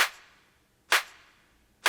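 Two layered clap samples struck together in a deep tech groove, giving crisp, noisy hits roughly every 0.9 seconds with short tails, loud and alone with no voices.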